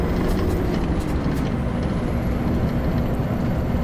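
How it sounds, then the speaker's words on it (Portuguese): Truck passing on a road in Euro Truck Simulator 2, a steady loud engine drone with a hiss of air brakes, heard from inside a bus cab. "Tá vindo um busão lá, ó, um caminhão, ó."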